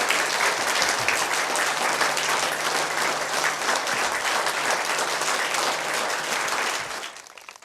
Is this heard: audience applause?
yes